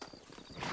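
Horse hooves clip-clopping in the Western video game Red Dead Redemption, a steady quick patter of hoofbeats that stays close and fairly soft throughout, with no talking.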